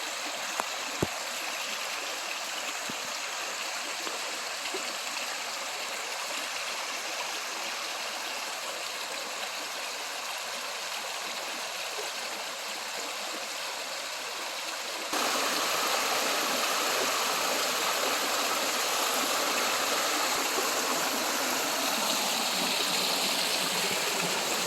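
Waterfall on a mountain hike to Clara Lake, heard as a continuous rushing hiss of falling water that is moderate at first, then suddenly swells louder and closer partway through, with no voices.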